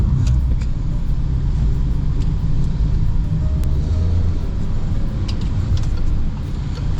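A 2023 Peugeot 2008 compact SUV drives along twisty roads, heard from inside as a steady loud low rumble of road and engine noise, with no talk.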